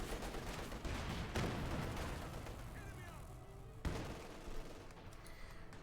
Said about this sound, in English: Tiger tank shoots and misses.